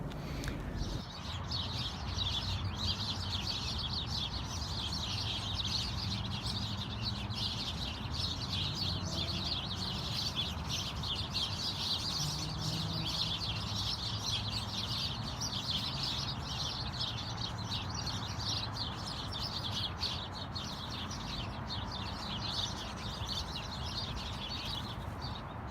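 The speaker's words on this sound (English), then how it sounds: "I don't recall there ever being so many noisy birds in Michelle's tree before." Many noisy birds chirping in a tree in uptown Phoenix, a dense continuous chorus of high tweets and calls, loud and steady with faint city hum beneath.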